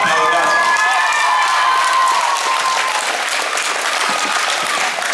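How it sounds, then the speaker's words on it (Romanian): An audience at a children's contest in Timișoara bursts into loud, sustained applause with some cheering and excited children's voices, the clapping dense and continuous throughout. "Felicitări! Aplaudați!"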